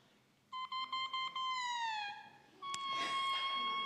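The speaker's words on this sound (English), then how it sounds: "She also has a double reed, and her double reed sounds like this." A bare oboe double reed blown on its own gives squawky, buzzy, high-pitched crowing tones: a few short pulsing bursts, then a long note sliding downward, a sharp click, and a steady sustained squeal, close and fairly loud.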